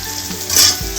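Onion and salt crackle in a hot pan for fish-head moong dal, in a brief close sizzle with a quick scrape or clink of a utensil near the end.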